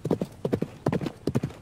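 Horse hooves clip-clop in quick galloping triplets in the video game Frontiers, three clusters of crisp close thuds in steady rhythm, loud and with no other sound.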